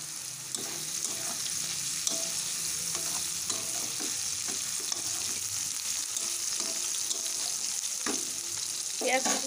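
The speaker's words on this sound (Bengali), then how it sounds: "আলুগুলো একটু মোটামুটি ভাজা হয়ে গেছে। এরপর এর মধ্যে একটু দিয়ে দেবো পেঁয়াজ কুচি।" Potatoes fry in a pan with chopped onion added, a soft continuous sizzle broken by repeated scraping stirs, close and fairly quiet with no talking.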